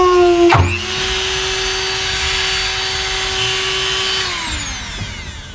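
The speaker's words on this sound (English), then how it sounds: "now I'm actually going to use a Dremel" A Dremel rotary tool burns grooves into a plastic barrel, its steady high-pitched whine running continuously for several seconds after a sharp start, then winding down near the end with no voices.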